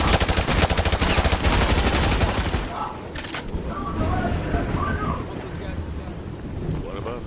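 Rapid automatic gunfire from the video game Modern Warfare 2 Remastered, loud dense bursts for the first few seconds before fading into scattered shots and battlefield ambience under brief radio chatter.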